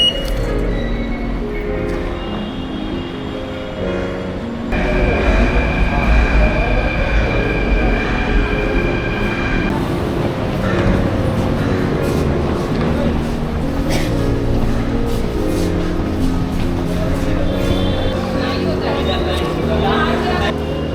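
A metro train rides through Mumbai, with a loud steady rumble of wheels and carriages, a brief tonal hum, and occasional rattles and squeals throughout.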